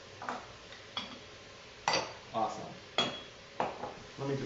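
A utensil stirring garlic in a cooking pot, making a series of quiet, irregular scraping clinks and taps spaced about half a second to a second apart.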